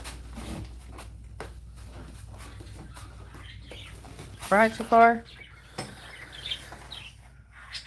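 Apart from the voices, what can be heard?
pet birds chirping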